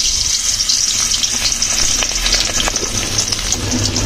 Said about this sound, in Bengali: মাছ বের করে কেটে ধুয়ে গরম গরম তেলে ছেড়ে দিলাম